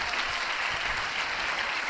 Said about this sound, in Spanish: Un aplauso al Rey de Reyes y Señor de Señores.